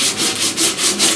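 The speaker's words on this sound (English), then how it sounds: "Now I'm just going to keep sanding here until I kind of get down to close to bare metal." Auto body filler on a truck cab corner dent repair being sanded down toward bare metal, with loud rhythmic back-and-forth abrasive strokes, about five passes, close up and without talk.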